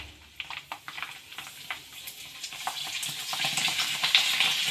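Nallis frying in hot oil while being stirred, a steady sizzle that grows louder and denser, with crisp bubbling crackle and occasional scraping of the stirring spoon.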